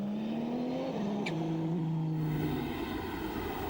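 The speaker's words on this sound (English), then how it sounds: "So the transmission noise." Drivetrain whine from a Le Mans 24-hour endurance race car at speed: a close, steady high gear whine that rises slightly and then shifts down in pitch, over a constant rushing engine and road roar, with no talking.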